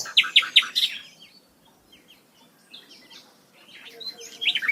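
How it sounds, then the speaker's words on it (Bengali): Small birds chirping and tweeting from a balcony in a village, bright bursts of quick calls near the start and again at the end with a quieter gap between, no talking. "আমার বেলকুনিতে পাখিরা কিচিরমিচির করে ডাকছে"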